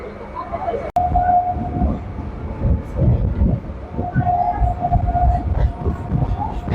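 Suburban train running between Princep Ghat and Eden Gardens stations in Kolkata, a loud continuous rumble and rattle of the carriages heard from on board, with a sharp click near the start.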